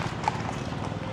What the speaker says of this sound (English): I just love the horse and cart